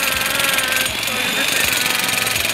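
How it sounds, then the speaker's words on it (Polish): A pneumatic demolition hammer pounds on a stuck car part in a garage, a loud, steady rapid hammering that runs throughout, with several heavier thuds as it strikes. "poszedłem po młot pneumatyczny do burzenia ścian"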